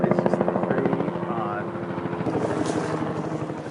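A helicopter flies overhead, its rotor chop steady and fairly loud, pulsing rhythmically at first and then fading to a droning wash under speech.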